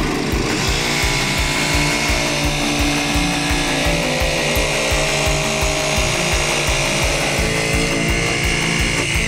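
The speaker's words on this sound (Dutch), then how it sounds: "We zagen de plaat op maat met de decoupeerzaag." A jigsaw cuts a thin wooden board to size, its motor loud and close with a fast, steady buzzing chatter of the blade that runs unbroken from start to finish, with no voices.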